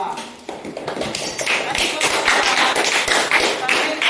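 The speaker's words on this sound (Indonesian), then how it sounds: "Sekarang kita berikan tepuk tangan untuk kelompok 2." Students in a classroom clap for a group that has just presented, a close, uneven patter of hand claps and light taps building in loudness, with some voices mixed in.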